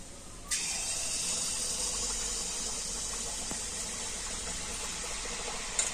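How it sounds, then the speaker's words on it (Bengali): Bengali pithe rice cakes deep-frying in hot oil, a dense, even roar of bubbling that starts abruptly and holds steady at close range, with no talking. "আর এইভাবে আমি এখন সমস্ত পিঠেগুলো ভেজে নেব।"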